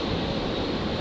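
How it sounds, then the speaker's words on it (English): Qantas Embraer jet aircraft at Brisbane airport, a dense continuous roar of engine noise, loud and steady throughout the second with no break, no voices over it. "I've got one of the Qantas Embraers"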